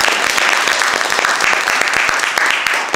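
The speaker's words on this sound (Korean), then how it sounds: "여러분 큰 박수로 맞이해 주시기 바랍니다." Audience at a Korean talk concert applauding a guest's introduction, a dense steady burst of clapping filling the whole moment, fairly loud and close.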